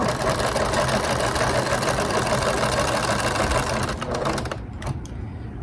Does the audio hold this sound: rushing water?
no